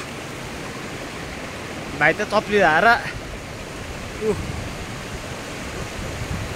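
Steady broadband rush of a flowing river stream along a gravel bank fills the whole stretch, with a person speaking briefly over it in the middle.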